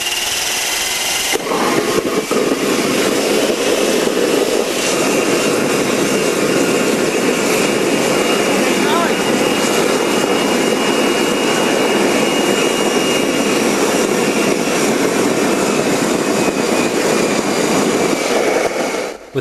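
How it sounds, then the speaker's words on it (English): A homemade backyard jet engine turbine from the late 1980s runs on its own, giving a loud, steady, sustained roar with a high whine layered over it, unbroken for nearly twenty seconds after a brief spool-up. "This next run shows the jet sustaining itself."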